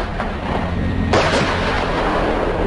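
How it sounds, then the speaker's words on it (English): A Panzerhaubitze 2000 self-propelled howitzer fires with a loud, heavy blast that fills the whole frequency range, ringing on into a rumbling tail, with no talk. "The high fire rate of this howitzer makes it possible to fight enemies on distance up to 40 kilometers in a very short sequence."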